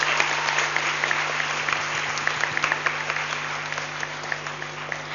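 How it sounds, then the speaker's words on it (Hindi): An audience at an NGO children's dance festival in Mumbai applauds the judges, with sustained, dense clapping that stays loud and steady from start to finish before easing slightly. "जोरदार तालियां इन जजेस के लिए।"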